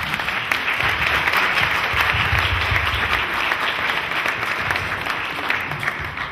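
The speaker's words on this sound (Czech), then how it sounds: "Prosím ještě potlesk" Sustained applause from an audience at a public debate in a hall, many hands clapping steadily and loudly without a break, with no voices standing out.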